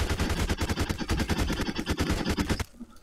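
Rapid bursts of video-game gunfire in Garry's Mod, loud and close, firing in a steady stuttering rhythm for over two seconds before cutting out abruptly.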